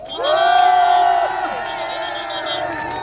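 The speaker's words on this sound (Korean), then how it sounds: "격려 박수 한번 부탁드립니다" A rally crowd at an outdoor market cheers and applauds for a local election candidate, with a loud, sustained shout rising over the steady roar of many people.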